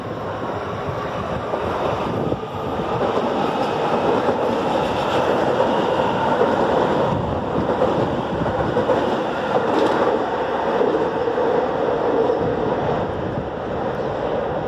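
A metro train arriving at a station rumbles steadily for the whole stretch, a broad, loud roar of wheels and motion with no voices over it.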